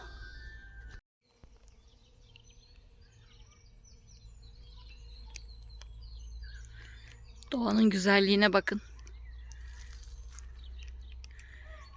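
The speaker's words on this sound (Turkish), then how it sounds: "Kuş sesleri" Birds singing outdoors on a mild spring day in the countryside: a short, bright burst of chirping song rises midway through a quiet scene, with someone speaking nearby and faint calls in the background.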